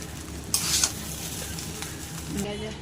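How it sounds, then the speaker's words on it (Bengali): Fried paneer is stirred into a pot of jackfruit biryani with a spoon, giving a short scrape and clatter over a low, steady sizzle with a faint background hum. "দিয়ে দেবো ভেজে রাখা পনিরগুলো, দিয়ে এটাকে ভালো করে নেড়ে নেব"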